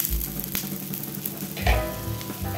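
A ragi millet dosa fries in oil on a pan with a soft, steady sizzle, broken by a few low thumps and scrapes from handling in the pan.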